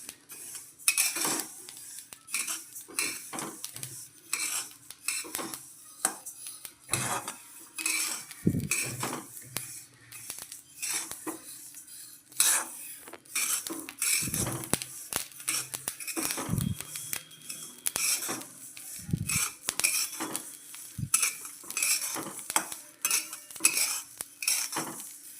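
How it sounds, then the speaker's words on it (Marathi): Green chillies roasting in a deep pan, a spoon scraping and clattering against the metal in steady irregular strokes, close and fairly loud, with a faint sizzle underneath. "आपली खुरसणी छान भाजली गेली आहे."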